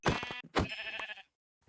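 Sheep bleating in the Minecraft video game, a few quick harmonic bleats in a short close burst with a pause between, then silence.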